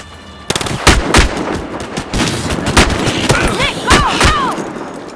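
Rapid bursts of automatic gunfire and single loud shots crack close by in a Battlefield Hardline firefight, with whizzing ricochet-like sounds toward the end.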